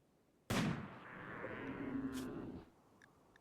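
A sniper rifle shot in the video game RimWorld cracks out suddenly, followed by a long rumbling, ringing tail that fades after about two seconds, with a faint second report afterward.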